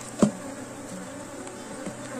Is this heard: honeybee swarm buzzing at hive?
yes